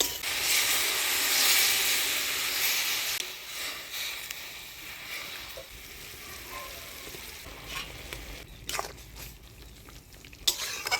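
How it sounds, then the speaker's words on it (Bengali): Lafa greens frying in a pan hiss and sizzle loudly as water is poured in, the steamy rush easing into softer bubbling with a few sharp clinks near the end. "শাকটা আমি ভাজা ভাজা করে নিলাম। এবারে জল দিয়ে দিই।"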